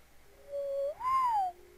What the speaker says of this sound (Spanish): Pájaros.